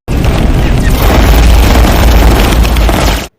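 Loud, continuous heavy booming rumble of rapid warning gunfire from an aircraft, close and distorted, with no clear gaps between shots.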